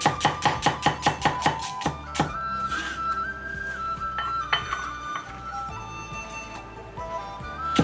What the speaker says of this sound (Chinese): 洋葱1个，切成细碎。